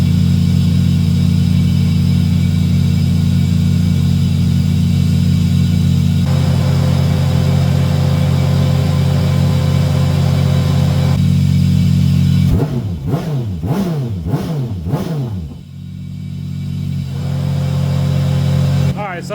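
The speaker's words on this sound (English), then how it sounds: "revving up the motor to try and get some combustion gases into the radiator" Car engine idling loudly and steadily for several seconds, then revved in a series of rising and falling sweeps, with a pump running during a combustion-gas check on the radiator.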